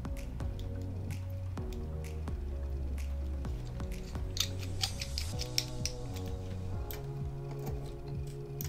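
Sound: driving screws into Fitbit Versa 3 smartwatch

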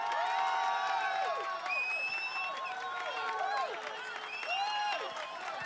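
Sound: crowd cheering a goal in the video game Football Manager 2021

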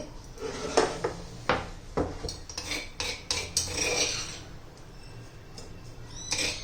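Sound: spooning chutney into a bowl

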